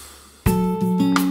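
Spread triads, apparently on an electric or synth keyboard, come in a loud syncopated burst after a short near-silence, with sustained chords shifting on off-beats and no one talking.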